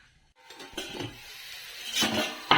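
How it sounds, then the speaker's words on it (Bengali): Spoon scraping and clinking against a pan as spices are stirred into vegetables for a Bengali Malabar spinach and stalk chachari, a few separate scrapes growing louder toward the end, with no talking. "সবজির সঙ্গে মশলাটা ভালো করে মিশিয়ে নেব।"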